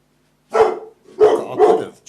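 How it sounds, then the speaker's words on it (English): A dog barks three times, loud and close, with short pauses between the barks and silence before the first, no talk over them. "what are you barking at?"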